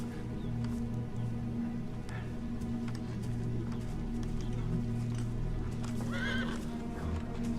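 Horses whinny and their hooves clop on the ground, a sharp neigh standing out near the end against a steady low background drone, with no talk.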